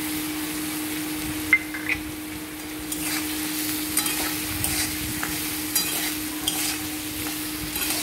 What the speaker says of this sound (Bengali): কিছুটা কষানোর পর আমি বেগুনগুলো দিয়ে দিচ্ছি আর বড়ি দিয়ে দিচ্ছি ভেজে রাখা।